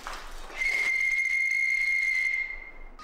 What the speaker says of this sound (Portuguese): ele pegou um apito que serve para invocar os espíritos que estão naquela